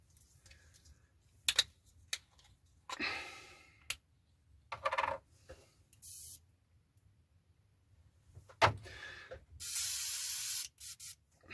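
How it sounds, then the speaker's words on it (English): An airbrush sprays AK Extreme Metal pale burnt metal paint freehand into the speed brake bay of an Airfix 1/72 MiG-17 model, in several short, close hissing bursts with a longer steady hiss near the end. "So we're just going to spray it freehand. Into the air brake bay."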